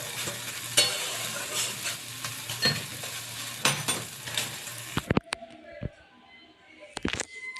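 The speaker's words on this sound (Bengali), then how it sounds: "দিয়ে বেশ সুন্দর করে নাড়াচাড়া করে নিচ্ছি" Shrimp and taro leaves stirred in a hot pan give a steady frying sizzle with spoon scrapes for about five seconds, then the sizzle drops away, leaving a few sharp clinks and taps.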